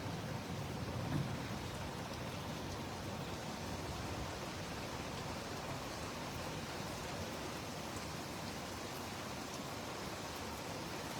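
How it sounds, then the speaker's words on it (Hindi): Steady morning rain falls in Ajmer, India, as a dense, even hiss that holds at a constant level for the whole stretch, with no voices. "बारिश आ रही है"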